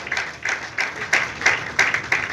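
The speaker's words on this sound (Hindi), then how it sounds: "एक बार जोरदार तालियां" Audience applause at a gathering for a nationwide one-minute group Gita recitation event, heard as clear rhythmic clapping with distinct accented bursts roughly every third of a second, close and steady throughout with no talking.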